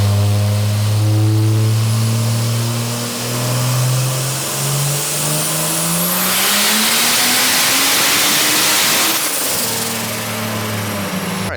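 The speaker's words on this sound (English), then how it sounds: "we'll get our first dyno pulls with a lower DA." A car on a chassis dyno during a power pull in low density-altitude conditions, making over 500 rear-wheel horsepower: the engine roars loud and close, its pitch climbing steadily through the rev range before a brief gear-change dip and a renewed climb.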